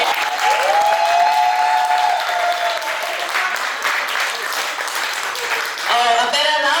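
An audience at a live cooking event bursts into steady, full applause that holds for several seconds, with voices calling out over it near the start and again at the end.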